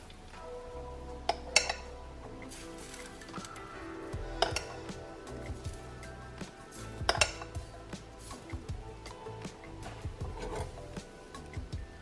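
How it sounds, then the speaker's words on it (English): Metal utensils clink and scrape against a pan as crepe batter is spooned in over avocado oil, with sharp knocks and clatters scattered throughout and no voice. "we're gonna spoon in our crepe"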